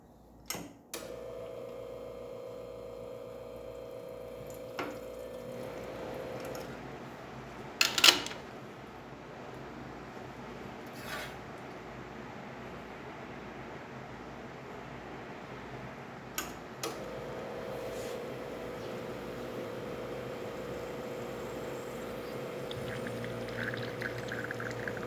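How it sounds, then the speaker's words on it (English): A Lelit Bianca dual boiler espresso machine, freshly serviced with a new silicone gasket, pulls a shot: a steady pump hum starts, stops, then resumes, broken by a few sharp clicks and clunks, close and with no talking. "go ahead and make an espresso shot on it."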